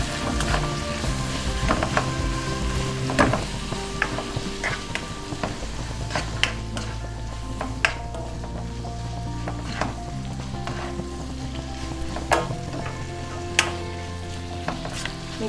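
Noodle rice is mixed and fried in a pan over a high flame. A steady sizzle runs under repeated clinks and scrapes of a utensil against the metal, close and busy.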